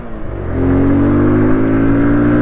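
A motorcycle pulls away on an incline as the throttle opens and the clutch is let go. The engine hums low and steady, then rises into a louder, sustained drone close by, with no talking.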